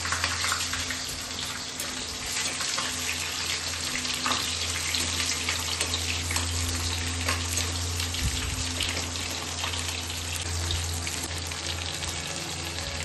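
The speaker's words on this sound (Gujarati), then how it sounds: "તો આ તેલ આપણું ગરમ થઈ ગયું છે, મરચા નાખી દઈશું આપણે" Green chillies frying in hot oil: a dense, steady sizzle and crackle close up, with a low background hum underneath throughout and no speech.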